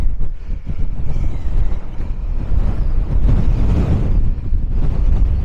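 Strong wind at Ramshaw Rocks in the UK buffets the microphone with a loud, continuous low roar that surges and gusts throughout, with no other sounds standing out.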